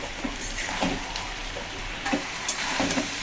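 Jackfruit, prawns and potatoes being sautéed and stirred in a pan, a steady close sizzle broken by a few scraping stirs.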